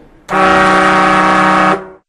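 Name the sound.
short horn honk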